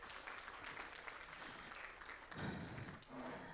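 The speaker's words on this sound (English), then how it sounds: "Please give him a round of applause." An audience at a corporate annual financial results presentation gives a round of applause, soft and distant, swelling slightly toward the end.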